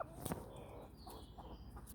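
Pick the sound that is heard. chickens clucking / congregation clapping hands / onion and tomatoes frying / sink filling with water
chickens clucking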